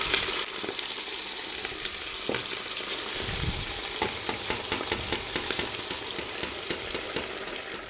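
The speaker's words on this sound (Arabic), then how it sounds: "خليها بالزيت بالسمن ومن بعد كنلوح لها البصله ونزيد عليها البصله" Onion sizzling in a pan of hot oil and ghee, a steady close crackle and hiss with small spits and pops throughout, plus occasional stirring knocks.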